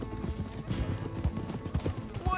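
Horse hooves clip-clopping in Red Dead Redemption 2, a quick irregular string of hoof strikes on the ground under game ambience, fairly close and continuous through the short stretch.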